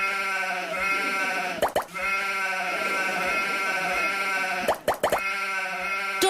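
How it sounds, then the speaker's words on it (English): Sheep bleating repeatedly, a loud, close, wavering cry that carries on for several seconds and is broken by a few brief thumps, with no talking. "Dolly the sheep"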